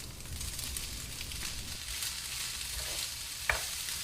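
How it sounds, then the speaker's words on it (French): Drained sun vegetables for a linguine and ground-veal dish hit a hot frying pan, giving a steady, close sizzle throughout with one sharp crackle near the end and no talking. "Je verse dans la poêle les légumes égouttés."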